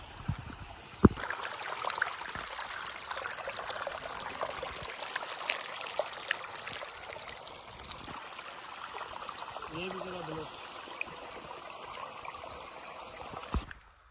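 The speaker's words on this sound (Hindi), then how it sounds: "इस पानी की आवाज़ सुना दो, कितनी प्यारी आवाज़ है पानी की" Water trickles and gurgles steadily over stones, a constant nearby stream with no pauses.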